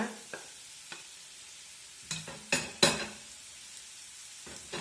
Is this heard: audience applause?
no